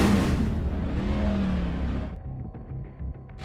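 Xfinity series race car engine roaring loud and close as it fires up and revs, the roar tapering off into a lower idle rumble with a few faint clicks.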